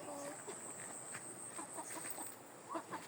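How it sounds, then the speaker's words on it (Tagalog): A chicken clucks softly in short bursts on a small pig farm, against a faint background hiss and high steady whine. "Isang makulit na manok."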